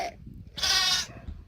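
A human voice imitates a lamb's bleat with one wavering, nasal cry of about half a second, close and fairly loud, after a short quieter sound.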